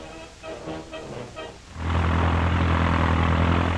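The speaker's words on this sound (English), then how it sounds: "transport plane arrives at Washington Airport" A propeller transport plane arrives at Washington Airport in 1938, its engines swelling suddenly into a loud, steady droning roar close by after a quieter opening with a brief pause.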